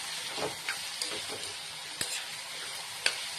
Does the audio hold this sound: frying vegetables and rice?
yes